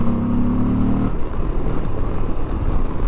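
A 2022 Moto Guzzi V85TT motorcycle ridden along at a steady clip, its engine a continuous low drone with a brief tonal hum at first, wind-rushed and close throughout.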